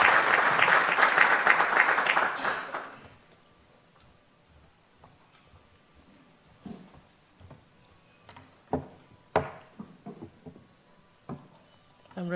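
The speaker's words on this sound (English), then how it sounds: "can we just give Lorna a round of applause?" A conference audience at a tech event in Africa gives a round of applause, dense clapping for nearly three seconds, then quiet with scattered clicks and bumps of someone handling equipment.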